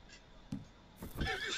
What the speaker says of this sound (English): There's a fast horse.